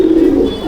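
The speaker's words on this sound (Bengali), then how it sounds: "তো বন্ধুরা আপনাদেরকে সামনে একটা কালাঙ্কা পায়রা দেখাচ্ছি পেয়ার" One brief, close, resonant coo from a Kalanka Andhra pigeon in a loft at Shyamnagar, a single low sustained note with no talking.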